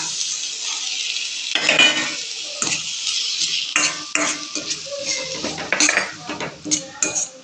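Finely chopped tomato dropped into a hot pan for masala pasta and stirred, with a bright sizzle and clattering metal spoon scrapes and knocks against the pan, close up with no talking.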